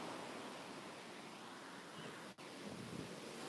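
Ocean waves rolling in the surf, a steady broadband roar with wind buffeting the microphone, constant throughout apart from one brief dropout.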